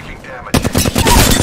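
Rapid video game gunfire in a shooter match breaks in after a short quiet moment, a close, loud burst of automatic shots aimed at the player.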